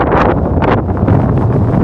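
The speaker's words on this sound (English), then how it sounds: "it's quite windy" Steady, heavy wind buffeting the microphone, a constant low roar with rushing gusts throughout and no voices.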